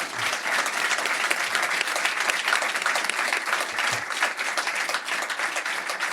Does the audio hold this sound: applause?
yes